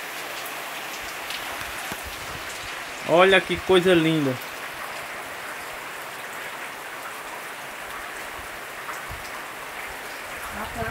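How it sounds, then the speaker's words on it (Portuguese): Heavy rain pours steadily in Macaíba, a dense hissing patter on surfaces that continues throughout, with a voice speaking briefly near the start. "Chuva na Macaíba."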